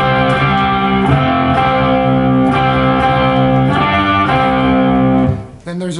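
An electric guitar plays a slow power chord riff on the fifth string from a song, several sustained distorted chords with rhythmic restrikes, loud and close, ending in a short pause.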